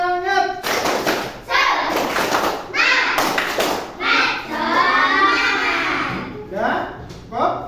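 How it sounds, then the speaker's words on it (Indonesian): A classroom of children claps a rhythmic spirit clap together, bursts of loud unison claps and taps mixed with kids' shouting and a teacher's voice. "kita adakan tepuk semangat dulu sebelum pembelajaran dimulai agar kita semangat"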